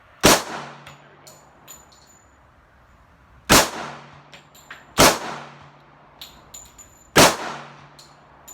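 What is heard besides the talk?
gunshots from an Auto Ordnance 1911 A1 pistol at the range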